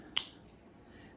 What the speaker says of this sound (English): So I'll cut about 4 inches there.